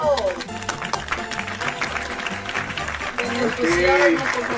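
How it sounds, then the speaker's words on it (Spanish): Applause from a seminar audience honouring a visiting monsignor at a religious conference, steady clapping mixed with voices and background music tones, loud and close throughout. "Un fuerte aplauso, por favor."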